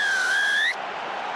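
A referee's whistle sounds at an Ireland versus South Africa rugby match: one sustained shrill blast, slightly wavering in pitch, cuts off sharply after about 0.7 seconds into crowd and stadium noise.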